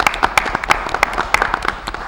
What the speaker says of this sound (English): would like to give them a little bit of applause too